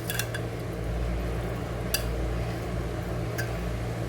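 Shrimp are tossed with Himalayan pink salt in a bowl, giving soft clinks of utensil against the dish and wet stirring under a low steady hum, with a few sharper taps standing out.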